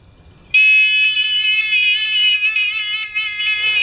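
A Discovery metal detector pinpointer turned up loud, giving a shrill continuous electronic tone that starts abruptly and holds steady, slightly wavering, until cutting off near the end.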